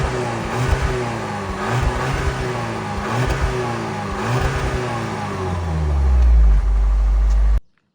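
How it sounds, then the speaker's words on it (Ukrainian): A car engine undergoing hydrogen engine cleaning is revved several times in a row, rising and falling in steady swells, then building to a heavier low roar before cutting off abruptly; loud and close, no talking. "Сереж, прогазуй, будь ласка, 2-3 рази"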